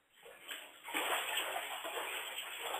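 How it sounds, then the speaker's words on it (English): Water splashes and sloshes in a bathtub, building from a faint start into a continuous, fairly soft wash of splashing. "there's some splashing"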